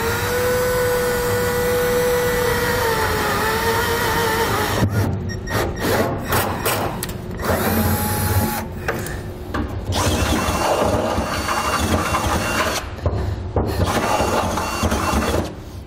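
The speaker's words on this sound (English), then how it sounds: "go up top and use either a step bit or even a half inch drill bit if you want, and drill down from the top" A power drill boring a hole from above through a truck bed with a step bit or half-inch bit while fitting a B&W Turnoverball underbed gooseneck hitch to a 2018 Chevrolet, with steady whirring broken by repeated short bursts and pauses, no talking.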